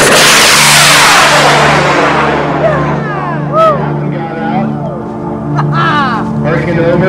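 A model rocket motor ignites and launches: a loud, roaring whoosh bursts at once, then thins and fades over several seconds as the rocket climbs away, with faint voices underneath.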